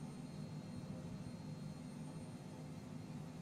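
Steady, even jet engine roar of a Cessna Citation Mustang in a flight simulator, a constant faint drone with no variation or talk over it.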